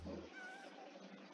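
A cat in the Minecraft video game gives a single faint, short meow over quiet background hiss.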